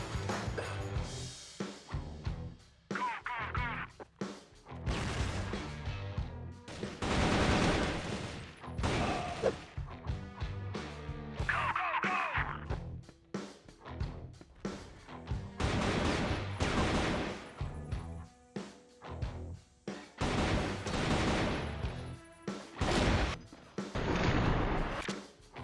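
Gunfire in the video game CrossFire, rapid bursts and single shots cracking repeatedly in clusters across the stretch, loud and close, with brief gaps between volleys.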